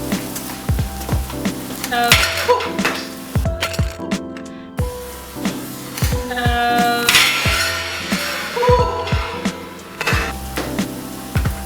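Arborio super fino rice is stirred in a hot pan, giving a steady frying sizzle broken by scraping stirs and clatters, with tonal background sounds running throughout.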